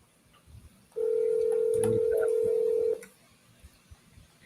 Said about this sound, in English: Answer this phone, Elias